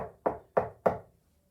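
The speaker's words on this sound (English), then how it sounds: "James knocked on the door of Homewood House." Three firm knocks on the door of a house, Homewood House, evenly spaced and close, each ringing briefly before fading into silence.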